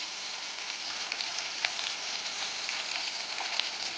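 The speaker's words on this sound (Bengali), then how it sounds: "মাছটা ভাজা হচ্ছে, ভাজা হয়ে গেছে" Tangra fish fry in a hot pan with a steady, close sizzle, crackling with small pops throughout.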